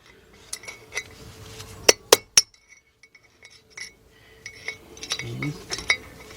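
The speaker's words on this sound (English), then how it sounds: "Let's use another chisel. I'm using a flatter chisel now." Sharp metallic strikes ring out as a flat chisel is hammered against a front wheel bearing race on a 1996 Ford F150 pickup, a quick cluster of loud close clanks followed by scattered lighter taps and scrapes.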